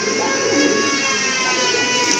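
Pigeons cooing at a pigeon sale, a close, continuous blend of low throaty coos and murmuring from several birds, steady and fairly loud.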